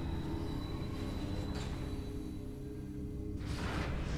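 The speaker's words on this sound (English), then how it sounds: "Another cool train." A train rolls past in the video game Metroid Prime 3, a steady low rumble of rail noise with rising whooshing swells partway through and near the end, no voices.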